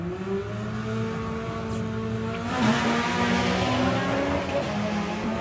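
Drag racing cars at a Doorslammers event, a 10-second car against a 12-second car, launching together: loud sustained engine roar with steady harmonic drone that swells and grows denser midway, a commentator's voice faintly under it.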